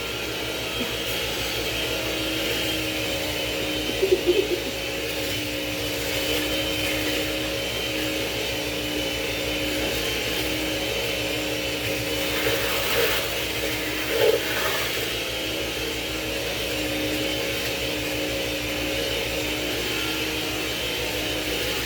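An electric mixer whirs steadily through cake batter in a home kitchen, a constant mid-pitched motor drone with a few brief clatters, and no voices over it.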